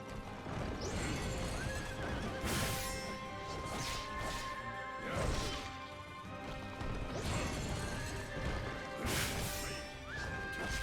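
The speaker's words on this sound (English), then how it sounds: "The second time you fight Lubu on the horse is more of an annoyance rather than an actual fight" Horse in the mounted Lu Bu fight from the video game Wo Long: Fallen Dynasty, with loud neighs and whinnies over galloping hoofbeats, heavy crashing impacts and weapon whacks throughout, with no talking.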